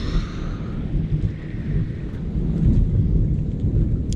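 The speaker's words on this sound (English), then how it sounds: "Hear that thunder rolling." Rolling thunder from a rainstorm, a deep, sustained low rumble that swells and fades over several seconds, distant and fairly loud, with faint rain and wind in the background.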